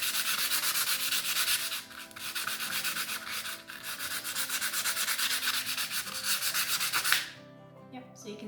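Steady, close hand sanding of a plastic container with 220 grit sandpaper: rapid back-and-forth rasping strokes run continuously with two brief pauses, then stop near the end.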